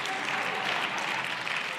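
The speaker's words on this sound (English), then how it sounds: "Why are you clapping for my failures?" An audience claps steadily at a live Save Soil event in Rome, a full, even wash of applause that holds at one level throughout, with no voices cutting through.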